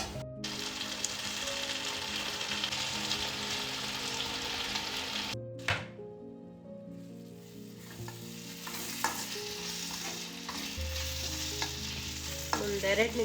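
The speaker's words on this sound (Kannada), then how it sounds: "ಒಂದು 2 ನಿಮಿಷ ಫ್ರೈ ಆಗಿದ್ರೆ ಟೊಮೊಟೊ ಗೊಜ್ಜು" Tomato gojju fries in a pan with a steady, close sizzle and occasional stirring scrapes, broken by a brief sharp clatter and a short drop in sizzle about midway.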